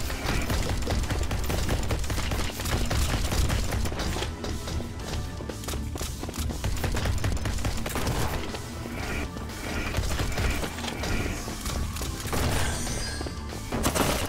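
Thompson submachine gun fire in the rogue-like dungeon shooter To Hell with Hell: dense, loud bursts of rapid automatic shots with heavy impacts, running almost continuously with brief gaps.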